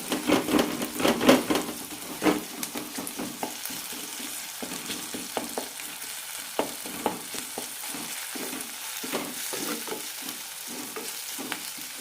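Cooked tomatoes mashed and stirred in a pan for a potato kurma, with repeated sharp wooden scraping and tapping strokes over a soft, continuous sizzle, busier at first and then more spaced out.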